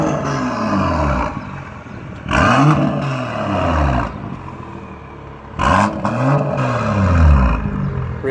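A slightly modified BMW M2 engine roars and revs hard in loud bursts at the Nürburgring, the exhaust valve open and blaring with deep rising and falling tones between quieter idling rumble.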